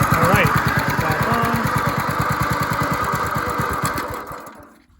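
A small engine salvaged from an abandoned go-kart runs with a rapid, steady putter, close and loud, its firing pulses holding through most of the run before the revs drop and it cuts off near the end.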